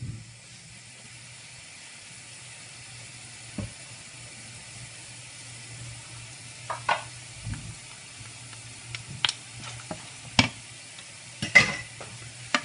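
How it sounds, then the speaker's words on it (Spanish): Tomato sauce with fried tomato fries in a pan while being stirred for a tuna dish, giving a soft low sizzle under scattered scraping and clicking stir strokes that grow busier toward the end. "Ahora ya todo está sofrito."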